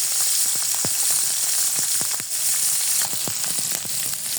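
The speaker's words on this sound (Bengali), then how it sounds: "আমি মাছটা একটু কড়া করে ভেজে নেব" Fish frying hard in hot oil in a home kitchen pan for a spiced fish bhuna, a loud, steady sizzle with scattered crackles and pops close up, and no voices.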